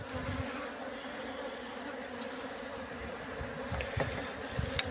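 Honeybees buzzing steadily while a colony is transferred from a nuc box into a new hive, a continuous close drone with occasional bumps and handling knocks.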